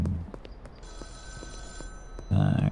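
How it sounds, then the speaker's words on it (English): Phone box telephone in the Schedule 1 video game, a rapid electric bell ring sustained at moderate distance, ending with a louder burst, with faint footsteps and talk around it. "And it's ringing, so let's answer the telephone."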